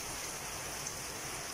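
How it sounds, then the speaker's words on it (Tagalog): Heavy rain pours steadily on a rainy afternoon behind a house among coconut trees, a dense, constant hiss with no pauses. "Heavy rain talaga."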